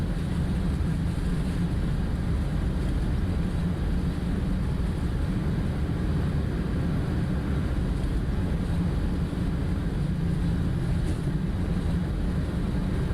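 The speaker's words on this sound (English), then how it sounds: "I like the sounds and the rattling inside the cockpit, that's nice" Simulated iFly 737 MAX 8 in Prepar3D v5.3 on its takeoff roll, a continuous heavy engine roar with low rumbling and faint cockpit rattle, steady and loud throughout with no voices.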